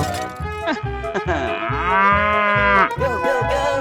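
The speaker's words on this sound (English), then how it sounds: "Cow." A cow moos in a long, loud, drawn-out call with a rising and falling pitch, heard up close over a rhythmic animated children's backing track.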